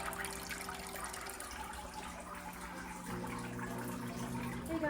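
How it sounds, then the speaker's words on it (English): Water draining out of a 75 gallon aquarium, a steady rushing, gurgling flow at close range that runs continuously and swells slightly louder near the end. "I'm emptying out some of the water right now"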